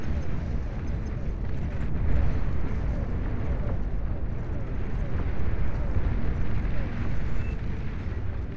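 Area-damage explosions from a Fatboy unit pounding a massed group of heavy tanks in the real-time strategy game Beyond All Reason, a dense continuous rumble of blasts and battle noise at steady loudness throughout.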